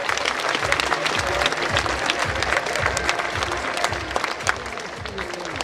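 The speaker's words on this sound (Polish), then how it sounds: "A państwa proszę oczywiście o gromkie brawa." Hall audience at a sports gala in Lubawa breaks into sustained applause, many hands clapping in a dense, even patter with a faint crowd murmur underneath throughout.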